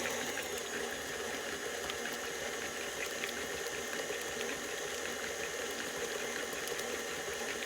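A kitchen stand mixer whips butter, giving a steady, faint whirring and churning hiss that runs unbroken throughout with no talk.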